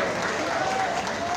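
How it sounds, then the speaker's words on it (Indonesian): At an anniversary event for the Pemuda Batak Bersatu youth organisation in North Sumatra, an audience claps to welcome the governor, a brief, even burst of applause at moderate level with no talking over it. "hadirin sambut beliau dengan tepuk tangan yang meriah"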